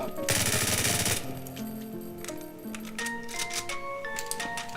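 An empty reload of a P90 in a game engine, a loud burst of rapid clicks at the start followed by a run of mechanical clacks and metallic ticks.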